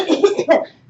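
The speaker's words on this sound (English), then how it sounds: "Do a little cough." A single short cough, close and fairly loud, made in a demonstration of how the body clears the airway, with no talk around it.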